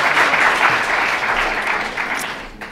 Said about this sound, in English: a round of applause is in order for Nicholas and his team